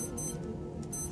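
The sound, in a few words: G-Shock watches beeping and chiming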